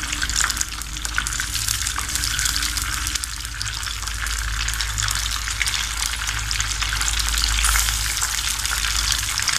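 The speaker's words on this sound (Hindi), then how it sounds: "अब मैं इसके अंदर बोनलेस चिकन वो डालूँगी" Boneless chicken pieces frying in hot oil over a medium flame for Chicken Manchurian, giving a loud, steady, dense sizzle that holds evenly for the whole stretch with no voices.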